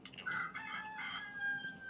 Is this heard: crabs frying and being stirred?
no